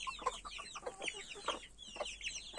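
Chickens cluck and squawk in a busy, overlapping chorus, a village garden flock close by with rapid, chattering calls and no talking.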